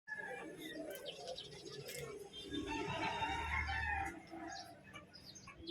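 Roosters crow among other caged birds at the Malabon pet market, with several faint calls scattered over a busy background hum and brief human voices.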